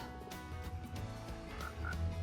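Frogs croaking in Minecraft 1.21, a few short low croaks rising over a steady game ambience with music-like tones, fairly quiet and with no talking.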